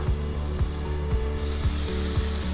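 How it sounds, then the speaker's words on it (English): Stuffed mushrooms topped with melting cheese sizzle steadily in a pan, a continuous close frying crackle with a soft regular tapping every half second or so, no talking. "So our mushrooms are ready, nice, sizzling and cheesy, and now we will serve them."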